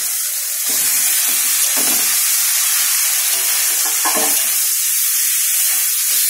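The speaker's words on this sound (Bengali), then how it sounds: "মশলা কষা হয়ে গেছে, এবার আমি আলুগুলো দিয়ে দেবো।" Potatoes fry in a pan of cooked-down spiced masala for a vegetarian aloo dum, giving a loud, steady sizzle with intermittent scraping stir strokes close by and no talk.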